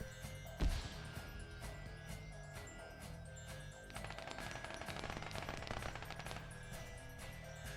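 Long-range automatic gunfire echoes across a capture-the-flag shooter match around a factory, one sharp shot followed by fairly quiet, distant rattling bursts that grow denser midway.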